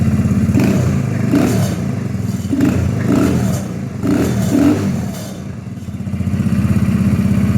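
A Kawasaki Z125 Pro motorcycle fitted with a Chimera exhaust idles nearby, giving a steady, low, pulsing engine burble with slight swells, loud and alone with no talking.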